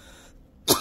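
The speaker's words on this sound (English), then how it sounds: "Excuse me, I got my cough." A single sharp cough bursts out near the end of a short, nearly silent stretch, loud and close to the microphone.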